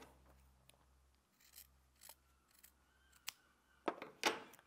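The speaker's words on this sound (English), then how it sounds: "I can trim away this excess, and I'm just going to do it with my scissors" Small snips trimming excess fabric from a quilt block seam, a quiet scraping rub followed by several crisp, close snips that grow sharper and louder toward the end, with no talking.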